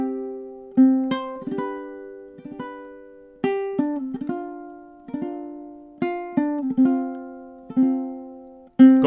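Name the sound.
ukulele playing measures 1 to 4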